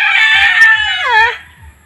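Chicken squawking and crowing loudly up close while being caught, a harsh warbling cry that slides downward and fades, with soft footsteps or scuffling underneath.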